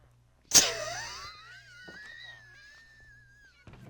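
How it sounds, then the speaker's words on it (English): Minecraft cat yowling after leaping into lava in the video game: a sharp burst followed by a long, wavering wail that slowly falls in pitch, alone and fairly clear. "That poor cat just jumped in the lava. That's why I'm hearing cats screaming."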